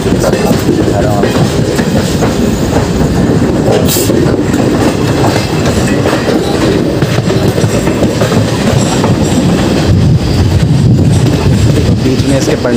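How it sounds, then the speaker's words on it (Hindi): Train 14229, the Prayagraj Sangam Yognagri Rishikesh Express, runs after leaving Lucknow. A loud, continuous rumble of rail travel with rhythmic wheel clatter and rattling carriages stays close and steady throughout. "दोस्तों हमारी ट्रेन का डिपार्चर हो चुका है अपने निर्धारित समय से 5 मिनट लेट से"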